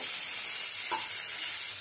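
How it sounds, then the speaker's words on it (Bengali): Steamed cauliflower frying in hot oil after mushrooms were cooked in it, a loud, steady close-up sizzle with light stirring, and no voices. "ওই একই তেলের মধ্যে দিয়ে দিচ্ছি ভাপ দিয়ে নেওয়া ফুলকপি। ফুলকপিটা দিয়েও নেড়ে চেড়ে নেব।"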